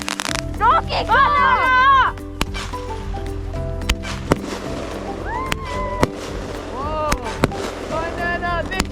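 Fireworks and firecrackers go off outdoors on a freezing Alaskan New Year's night, with sharp cracks and whistling rockets scattered throughout, loud bursts near the start, while people shout and cheer nearby.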